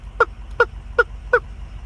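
A person mimics wild turkey gobbles, four short evenly spaced calls, fairly loud and close, over a low rumbling background.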